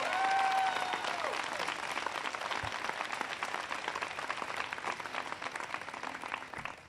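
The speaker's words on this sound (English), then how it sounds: "Can everybody please give Alex a big round of applause for that great introduction?" An audience at an outdoor economy speech in Denver, Colorado, bursts into sustained applause, a dense wash of clapping that holds steady and tapers slightly, with faint cheers at the start.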